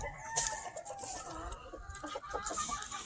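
WT Greene Whitehackle hens cluck close by, a few quiet, uneven calls over faint farmyard background with no talking.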